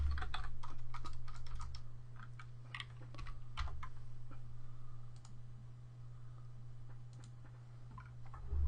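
Computer keyboard typing with quick clustered key clicks in short bursts over a steady low hum, close and fairly quiet, with no talking.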